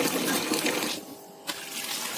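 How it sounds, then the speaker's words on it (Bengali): Boiled noodles rinsed under cold running water, a continuous close rush of splashing flow with a brief dip midway before the stream resumes, no voices. "এবার নুডলসে আমি ঠান্ডা জল দিয়ে ধুয়ে নেব।"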